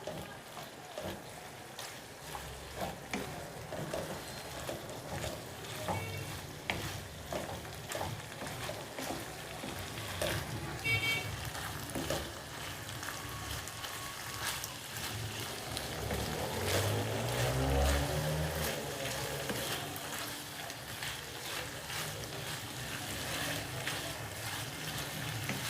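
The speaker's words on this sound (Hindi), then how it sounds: "अब इसकी हम भुनाई करेंगे ताकि स्मेल जो है इसकी चिकन की ख़त्म हो जाए" Chicken fries over raised heat in a pan while chow mein is being made, a soft, continuous sizzle and crackle that stays fairly quiet and even throughout.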